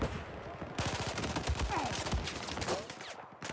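Fast rattling automatic gunfire in Battlefield 4, rapid repeated shots close and loud across the whole stretch, with a burst of other combat noise layered in.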